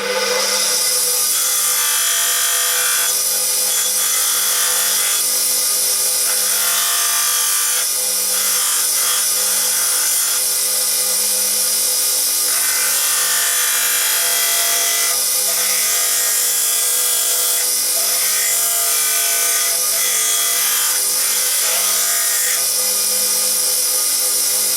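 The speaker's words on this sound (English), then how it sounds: "I'm now going to just use my little multi grinder with a little disc sander just to roughly" Small multi grinder with a disc sander roughly grinding wood off a friction folder knife handle, a loud continuous high-pitched whine and abrasive rasp lasting throughout, with slight pitch changes as pressure varies.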